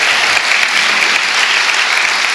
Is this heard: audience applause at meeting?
yes